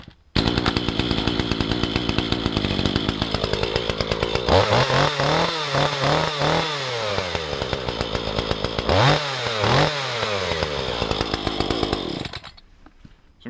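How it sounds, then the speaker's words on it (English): A Dolmar PS-421 chainsaw idles, then revs hard and bites into a wood slab in several long cutting passes, its pitch dipping under load before winding down. "So I'm going to take a couple passes on this slab right here"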